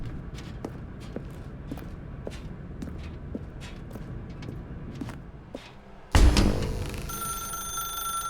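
A telephone in The Stanley Parable video game starts ringing abruptly partway through, loud and close, after a stretch of quiet footsteps and faint ambience.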